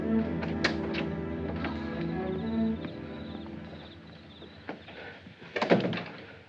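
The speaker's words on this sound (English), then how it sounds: "Ellen, Pete, open the door." A door opening in a 1947 film drama: a muffled thunk and rattle of a door being handled, followed by a sharper knock-like bang near the end, over a low background hum.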